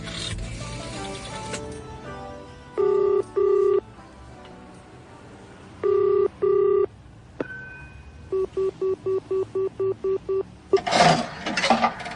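A telephone being dialed in a radio drama: bursts of touch-tone dialing beeps, a longer ringing tone, then a rapid run of dial tones, closing on a brief noisy clatter, with no voices.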